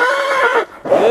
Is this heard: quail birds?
no